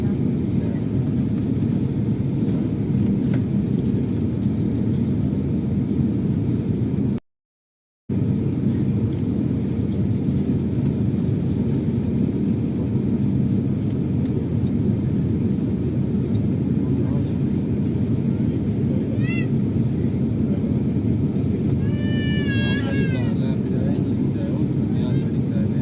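Qatar Airways airliner taking off from Islamabad Airport at night, a steady loud broadband engine roar from inside the cabin throughout, with a brief dropout midway.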